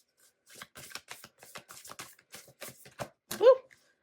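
A tarot deck being shuffled and cards drawn, a close rapid run of crisp flicks and riffles in short bursts, ending in a louder slap as a card flies out.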